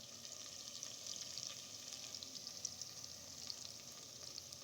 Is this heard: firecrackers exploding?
no